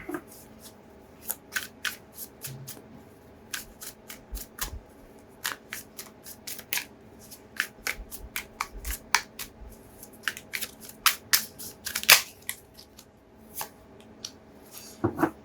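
Tarot cards shuffled by hand in a quiet room, a long run of crisp riffling snaps and slaps arriving in irregular bursts, close and fairly loud, with no talking.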